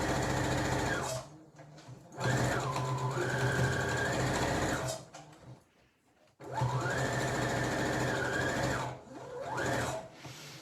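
Domestic sewing machine stitching fabric for a small bunny storage bag, running in long steady bursts with brief pauses between, close and fairly loud, no talk.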